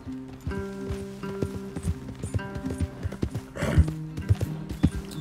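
Horse hooves in the video game Red Dead Redemption 2 clip-clop at an uneven walking pace amid tack jingles, with a heavier thump and snort midway, moderately close.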